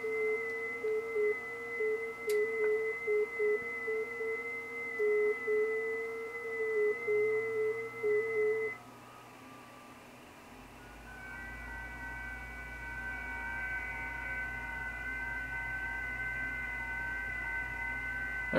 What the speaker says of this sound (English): FT8 sounds like this on the radio.